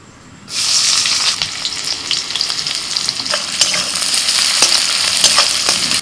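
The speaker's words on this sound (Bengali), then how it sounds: "কড়াইতে তেল দিয়ে ওর মধ্যে দিচ্ছি পেঁয়াজ কুচি।" Chopped onion hits hot oil in a wok after a short quiet start, setting off a loud, steady sizzle with sharp crackles and pops throughout.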